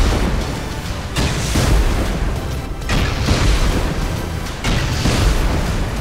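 Explosives blasting apart a base in Rust, a loud rumbling series of heavy booms with three or four big blasts spaced a second or two apart, each followed by debris roar and no voices.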